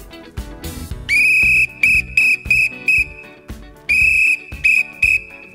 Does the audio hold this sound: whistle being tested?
yes